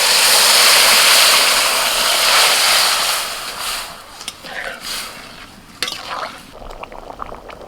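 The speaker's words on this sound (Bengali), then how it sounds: "সমস্ত কিছু ভাজা হয়ে গেছে এবার সিদ্ধ করা ডাল ঢেলে দিচ্ছি" Boiled lentils pour into a pan of fried onion, garlic, tomato and spices, a loud hissing sizzle that fades into softer bubbling and scattered stirring clinks.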